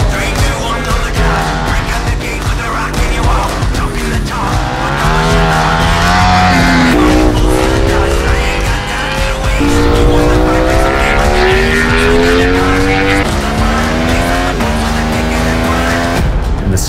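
A Ducati Streetfighter V4 prototype motorcycle races up Pikes Peak, its engine screaming loud and close, climbing and dropping in pitch through rapid gear changes with no speech over it.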